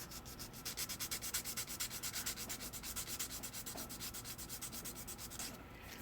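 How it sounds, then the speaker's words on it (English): Steady rhythmic sanding strokes on a car body being prepared for paint and clear coat, a fast even back-and-forth rasp repeating close up and loud, with no talking. "Now I drew me a little line where I need to stay to when I'm sanding."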